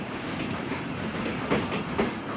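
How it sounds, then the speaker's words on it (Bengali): A train pulling out of Halsa station rumbles steadily close by, its wheels giving a rhythmic clickety-clack over the rails with a couple of louder jolts, alone without voices. "হালসা থেকে ছেড়ে গেল ট্রেনটা"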